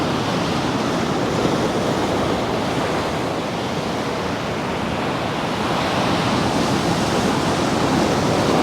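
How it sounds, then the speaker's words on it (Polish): Large sea waves crash continuously onto the shore near Leuca, Italy, a dense roaring surge of water and spray that swells louder toward the end, with no voices. "Idzie fala"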